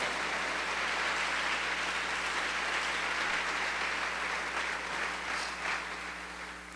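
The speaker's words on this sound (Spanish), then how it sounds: "Aplauda al Rey." A church congregation applauds during a sermon, a dense, steady wash of clapping that fills the room and slowly fades toward the end, with a low hum beneath it.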